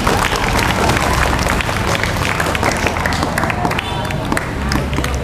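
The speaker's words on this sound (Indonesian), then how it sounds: "Beri tepuk tangan untuk Nadifa." An audience claps for a ninth-grade student in a loud, busy burst of applause mixed with crowd murmur, close and sustained, with voices talking over it.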